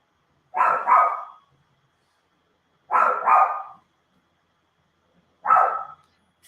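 A dog barks in three separate bursts, the first two as quick double barks and the last a single bark, fairly close and loud indoors with silence between.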